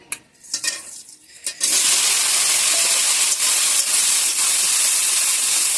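Potatoes seasoned with turmeric and salt hit hot oil, bursting into a loud, steady hiss of frying after a few brief clinks and scrapes at the start, close and sustained to the end.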